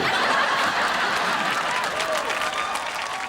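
A studio audience on the Bigg Boss reality show applauds loudly and continuously, with faint chuckles mixed into the clapping.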